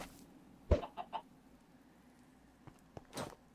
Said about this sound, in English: Alright, more chickens.